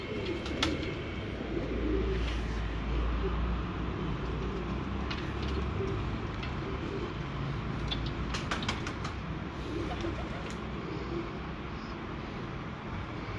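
Breeder pigeons in a loft, soft continuous cooing with occasional clicks and rustles amid steady low background noise.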